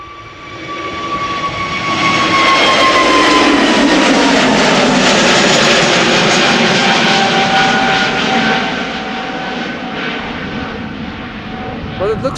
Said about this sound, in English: More EasyJet coming this way.